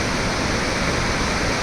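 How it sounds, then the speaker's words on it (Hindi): A mountain river flows below a road near Joshimath, a loud, dense and steady roar of rushing water that fills the whole moment without a break. "और नीचे ये नदी"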